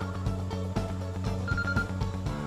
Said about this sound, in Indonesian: maaf ada orang telepon.